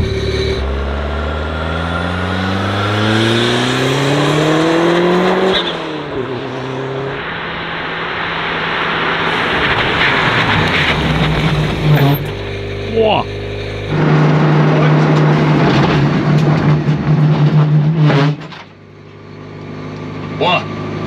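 A car with race ABS runs a braking test on the Contidrom test track. The engine is loud and close, revving up through rising gears, then dropping off and slowing with tire and road noise.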